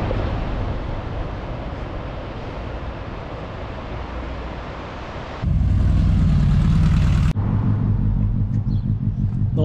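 Motorbikes, Honda CBRs and Kawasaki ZZRs including an 1100, with their engines running at an outdoor vintage vehicle display in a village: a steady rumbling engine drone that shifts abruptly, becoming deeper and louder up close.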